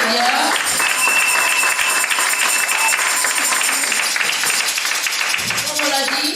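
A church congregation applauding in a steady, sustained wash of clapping that fills the space, with voices and cheers mixed in.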